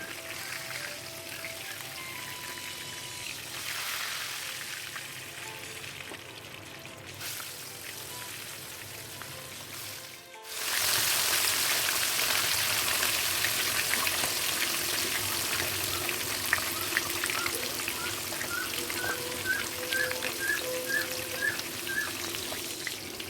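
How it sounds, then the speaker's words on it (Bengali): Tilapia pieces drop into hot mustard oil seasoned with a little turmeric and salt: a soft background hiss gives way to a sudden loud, crackling sizzle that continues steadily and close by. "তেলটা খুব ভালোভাবে গরম হয়ে এলে মাছগুলোকে ছাড়বেন।"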